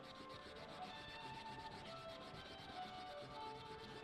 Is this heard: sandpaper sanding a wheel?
yes